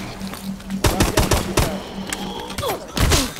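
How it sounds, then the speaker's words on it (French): A rocket turret firing in a Call of Duty Advanced Warfare zombies match, loud rapid bursts of booming shots and thuds in clustered volleys with short gaps, close and dense, no voices over them. "Tourelle à roquette."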